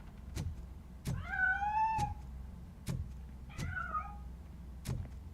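Two drawn-out cat meows from the video game Robocop Rogue City rise and fall between sharp, evenly spaced clicking thumps over a low background hum.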